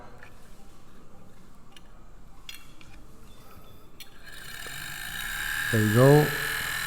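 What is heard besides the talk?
small DC electric motor with brushes starting and spinning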